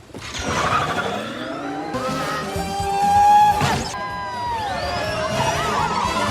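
An electric motorcycle ridden by Mrs. Incredible in the animated film Incredibles 2 whirs and whines with rising and falling pitch under a continuous mix of music and effects, loud and close.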